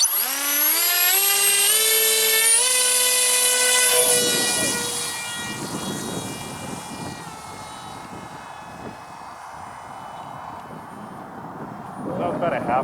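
A scratch-built 1/32 scale SR-71 model pusher jet launched at half throttle: a loud, rising electric whine with strong tonal harmonics for several seconds, then cutting away to a fainter, rushing drone as it flies off, swelling again near the end.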